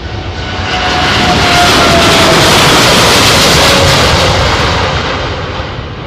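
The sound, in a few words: Boeing 777-9 jet aircraft taking off at Farnborough airshow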